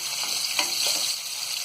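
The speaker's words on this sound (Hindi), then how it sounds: "इसे हल्का गोल्डन ब्राउन होने तक हम फ्राई कर लेंगे" Finely chopped onion fries in oil with spices in a pan, a steady bright sizzle with soft crackles and a brief stir, close and continuous.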